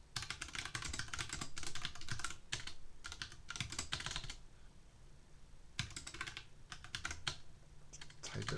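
Rapid bursts of typing on a computer keyboard, dense clicking keystrokes in clusters with short pauses between them, close and steady throughout.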